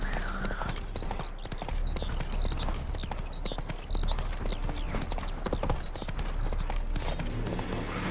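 Steady clip-clop of horse hooves at a walking rhythm in The Witcher 3: Hearts of Stone video game, with high whistling tones and ambient noise in the background.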